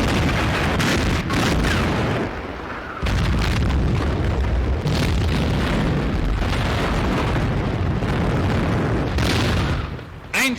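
Enemy artillery shells exploding on impact near British destroyers in a 1942 German newsreel combat scene, a series of loud heavy booms and blasts with rumbling aftermath, dense and continuous with brief lulls.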